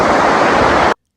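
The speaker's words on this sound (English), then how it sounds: "So this is gulfoss waterfall, which means gold waterfall" Gullfoss waterfall in Iceland roaring as a dense, loud, continuous wash of falling water, steady throughout and ending abruptly.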